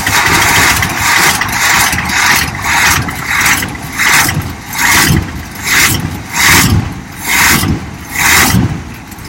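An Oldsmobile 455 Rocket V8 turns over on a weak bridged battery and catches, running loudly and close with a steady rhythmic pulsing throb and no talk over it.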